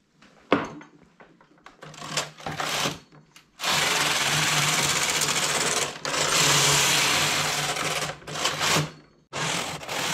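A domestic knitting machine carriage knitting a sweater is pushed across the needle bed in loud mechanical whirring passes, separated by short pauses and lighter clicks and clatters.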